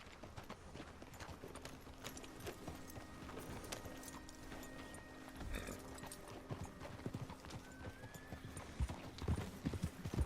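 Horses trot with riders in Red Dead Redemption 2, a steady clip-clop of hooves running throughout with an occasional whinny and brief bursts of louder hoofbeats near the end, no talk over it.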